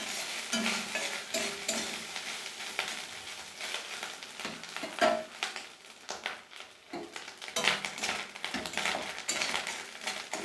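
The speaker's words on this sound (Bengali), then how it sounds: "একটু লাল লাল করে ভাজবো নারকেলটাকে" Grated coconut frying in a pan until reddish, with a steady sizzle under repeated scraping and stirring strokes from a utensil, plus occasional metallic clinks against the pan; close and fairly quiet, no talk.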